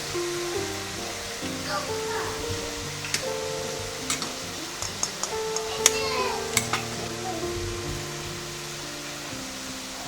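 Egg stirred into sizzling cauliflower fried rice in a hot pan, a steady frying hiss with soft scraping and a few sharp clicks of the utensil against the pan, heard over a quiet tonal background.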